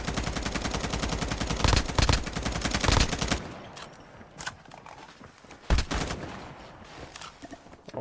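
Rapid automatic gunfire in the Call of Duty Mobile battle royale mode, dense bursts of shots for about three seconds, then scattered single loud shots and distant fire over quieter game ambience.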